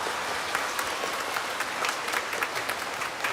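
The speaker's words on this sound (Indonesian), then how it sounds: "Tepuk tangan untuk kalian." Audience at a church gathering clapping together, a dense steady burst of applause heard from within the room for a few seconds.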